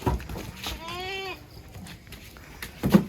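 A Kaligesing PE goat, an Etawa crossbreed, gives a single short wavering bleat close by at a farm in Kulon Progo, with faint shuffling and background noise around it.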